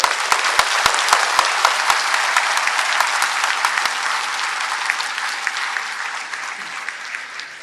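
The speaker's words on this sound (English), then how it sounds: "Let's give a big applause for them." Sustained applause from a large audience, loud and dense with sharp individual claps standing out at the start, fading slightly toward the end with no voices over it.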